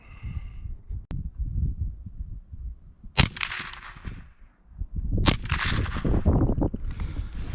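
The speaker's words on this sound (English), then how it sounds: "I'm going to put 2 more rounds into the magazine, fire those out" A .22 LR rifle loaded with bulk-pack ammunition fires two sharp, close cracks about two seconds apart, with quieter handling and background noise around them.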